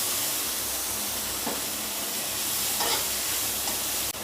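Grated carrot sautés in a hot pan as a Diwali sweet begins, giving a steady, even sizzle with faint stirring scrapes and no voices.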